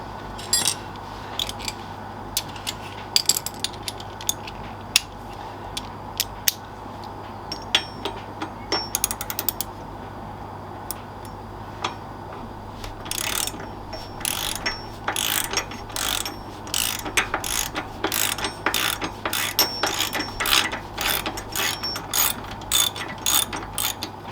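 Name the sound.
ratchet with socket tightening bolts on motorcycle pannier guard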